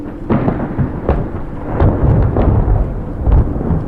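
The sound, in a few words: loud thunder from a lightning strike in a storm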